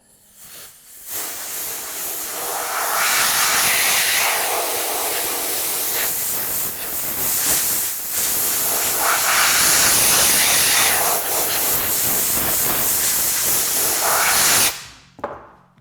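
Compressed air blasts debris off a patinated steel speaker panel, a loud steady hiss that runs nearly unbroken for about fourteen seconds, dipping briefly once, then cutting off abruptly.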